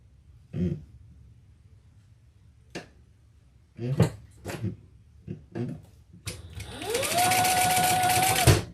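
A sewing machine basts handbag fabric in one steady run of stitching near the end, after a few scattered bumps and handling knocks.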